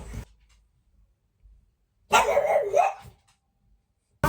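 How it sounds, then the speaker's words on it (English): A dog barks at a gardener in a short burst of loud, close barking in the middle, with brief faint noises before it and another sharp bark at the very end. "My dog wants to kill the gardener"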